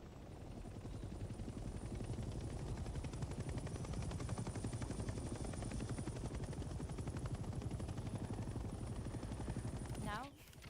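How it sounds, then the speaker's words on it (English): A helicopter in the Vietnam-era war game Hell Let Loose: Vietnam lifts off and holds a hover, its rotor thumping in a loud, steady, close drone with engine whine, continuing unbroken until it cuts off near the end. "The helicopter will now take off automatically and remain in a hover state."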